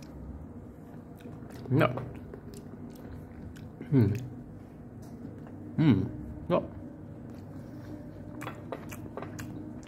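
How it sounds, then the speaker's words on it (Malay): Solid cake from a military MRE ration being chewed close to the mic, with four distinct bites and crunchy chews spaced a couple of seconds apart over low room noise and a brief spoken word. "Bila kau kunyah tu memang terasa lah solid dia punya cake tu."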